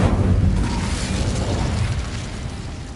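Incendio fire spell cast in Hogwarts Legacy, a dense, loud whooshing roar of flame that starts strong and holds steady, slowly easing over a few seconds with no voices.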